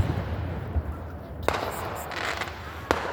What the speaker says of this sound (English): he's setting off way too many fireworks